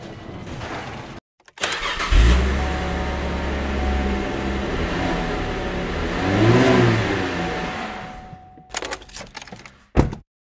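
Race car engine in Assetto Corsa Competizione, loud and sustained, revving up and down through about eight seconds with a swell near the middle, then cutting off into a few brief knocks.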